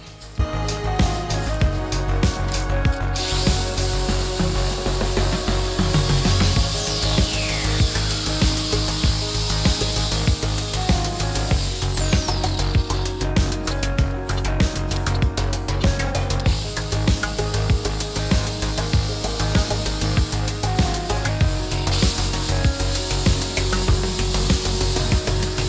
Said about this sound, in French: là j'ai mis un disque à découper sur la meuleuse d'angle. Et on va s'amuser à découper les petites encoches pour que l'acier rentre bien dedans.